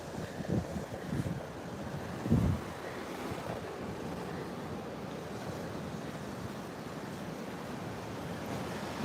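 Atlantic surf washing against a rock jetty at Long Beach Island, New Jersey, a steady roar of waves with gusty wind buffeting the microphone and a few louder surges early on.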